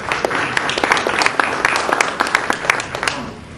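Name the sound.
audience applause at judicial forum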